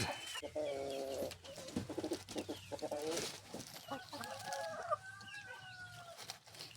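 Rhode Island Red hens in a coop clucking and cackling nearby in short repeated calls, with faint rustling between them.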